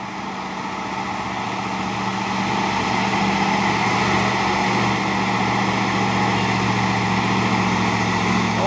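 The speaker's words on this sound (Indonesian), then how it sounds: "di belakang juga ada satu nih dump truk Puso membawa bahan material bangunan" A Fuso dump truck hauling building materials labours uphill with a loud, steady, low diesel drone that holds unbroken throughout, no voices over it.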